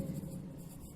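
A pen scratches briefly across paper in a classroom, a soft, close, steady scribble lasting about a second.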